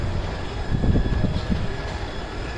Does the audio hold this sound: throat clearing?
no